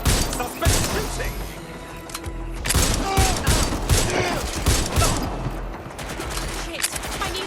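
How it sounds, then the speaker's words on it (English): Heavy gunfire in Watch Dogs Legion, a continuous chaotic fusillade of close shots and impacts with loud bursts rising and falling throughout. "Suspect shooting!"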